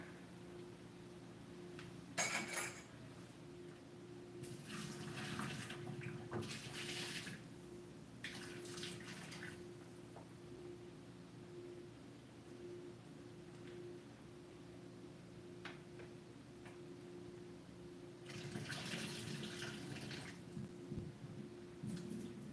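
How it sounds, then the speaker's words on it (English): Water is dumped out and runs in a few separate splashing bursts over a steady low hum, fairly quiet and with no one talking. "we're going to dump this water"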